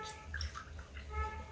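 Water poured from a cup into a pot of dal simmering with milk makes a soft, continuous trickle and gurgle, faint and close, with no talking.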